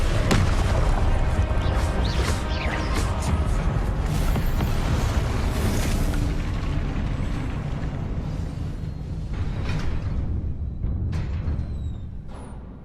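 Fiery Confringo spell blasts in the Hogwarts Legacy video game, loud booming explosions and crashing bursts piling up in dense succession, then easing into scattered pops and crackles toward the end.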